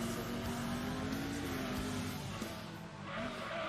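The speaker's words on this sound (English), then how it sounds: "Braking hard." A race car in Gran Turismo 2 brakes hard, with a sustained tire squeal riding over a low engine drone, fairly quiet and steady for a few seconds before easing off.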